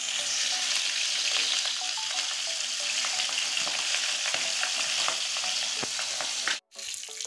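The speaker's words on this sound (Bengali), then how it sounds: "এই দেখুন আমি মাছটা লাল লাল করে একদম ভেজে নিয়েছি" Pabda fish fries in oil in a pan, giving a loud, continuous close sizzle and crackle with faint stirring scrapes. The sound cuts out briefly near the end.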